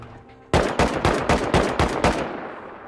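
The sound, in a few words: auto turrets firing gunshots in Rust video game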